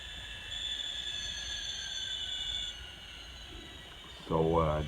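The DCC sound decoder in a Kato SD40-2 N scale model locomotive plays a steady diesel engine drone with a high whine that drops away when the throttle eases. A voice starts speaking at the end.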